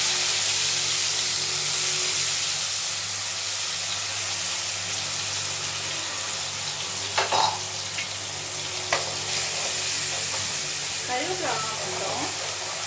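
Onion, tomato and ginger-garlic paste sautéing in a pan on high heat for egg masala, giving a continuous sizzling hiss with a few clinks and stirring scrapes partway through.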